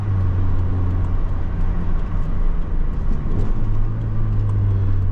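1989 Ford Probe Turbo GT turbocharged engine accelerating, heard from inside the cabin as a steady loud low drone with a rising engine tone, continuous road and engine noise without speech.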